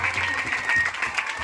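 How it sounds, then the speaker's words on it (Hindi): Audience at a dance performance applauding, a brief burst of dense, close clapping that stays fairly even for its short length, with faint voices mixed in. "जोरदार ताली बजा दीजिए इनके लिए।"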